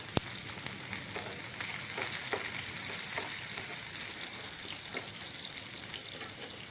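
Garlic and ginger sizzle steadily in a hot pan for an Idiyirachi dry-meat dish, a continuous close crackle with occasional sharper pops and faint stirring.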